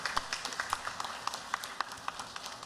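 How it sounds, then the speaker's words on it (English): Audience at a temple's 30th anniversary celebration applauding its members, scattered individual claps forming an irregular rhythm, fairly close, with no talking over it. "Let us all give this temple members a round of applause."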